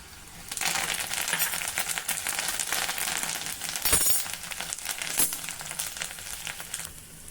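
Curry leaves and coriander sizzling in hot tempering oil with asafoetida and turmeric, the gas just switched off, a steady crackling fry with a few sharp pops that stands alone for several seconds.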